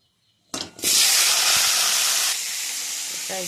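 Oil hitting a hot wok on a home stove bursts into a loud, broad sizzling hiss that starts suddenly and holds steady, easing slightly near the end, with no talk.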